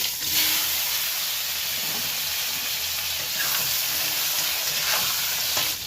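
A few small brinjals fry in hot oil, giving a continuous loud hiss and sizzle throughout, with a few faint clicks of stirring and no voices.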